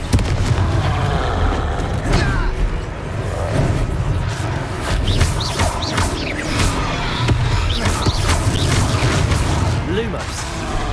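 Blasting spell explosions cast in the Hogwarts Legacy video game during combat, a dense, continuous stretch of booming impacts and crashes layered over game music and effects, loud throughout.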